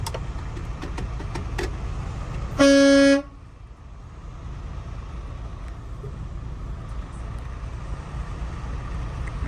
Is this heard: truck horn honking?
yes